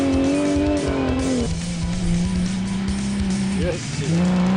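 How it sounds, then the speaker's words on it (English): Bantam rally car at the Lichtenburg 200 race, its engine droning high and then dropping in pitch as it shifts, with tyre noise and a commentator talking over it. "Willie Wellman, that Bantam is now running like a rocket."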